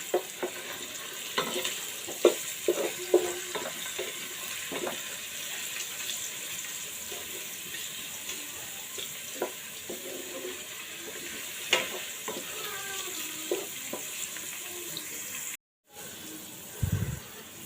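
Sweet pumpkin seeds frying in oil with spices in a pan, a low soft sizzle with occasional light stirring clicks and scrapes, fairly faint and close, no talking.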